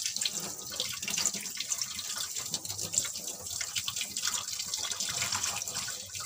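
Running tap water splashes steadily while small bata fish are washed clean in a sink, a continuous close rinsing with bursts of splashing and no talking.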